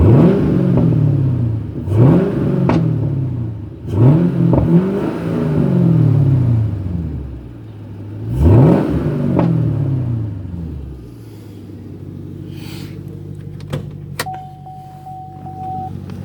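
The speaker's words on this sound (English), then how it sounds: "It's got a real nice tone to the exhaust." A 2013 Chevrolet Camaro 2SS revs up several times in loud, rising sweeps through its exhaust, each settling back to a deep idle, ending with a steady rumble and faint whine.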